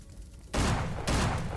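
Two loud shotgun blasts in PUBG Mobile Lite fire about half a second apart, each a sharp broadband burst after a quieter stretch.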